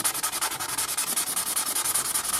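Sandpaper of 600 grit rubbing a part from an 1851 Navy single action revolver: a steady, rapid back-and-forth scratching rhythm of short, even strokes, loud and close, with no voices.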